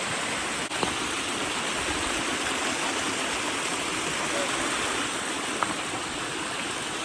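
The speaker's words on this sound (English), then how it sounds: "there's a waterfall right there" Small waterfall and river stream heard on a mountain hike, a steady broadband rush of flowing water filling the scene at close range, with a couple of faint footstep clicks and no talking.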